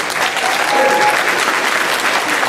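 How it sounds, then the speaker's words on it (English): Audience applauding at a school awards evening at Carpenter Middle School as an alumnus guest speaker is welcomed; steady, dense clapping fills the room throughout at a fairly loud, even level with no talk over it. "Give him a round of applause."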